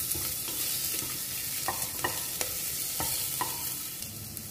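Onions sauté in a pan for green pea soup, a continuous near sizzle broken by several sharp scraping taps of a stirring spoon.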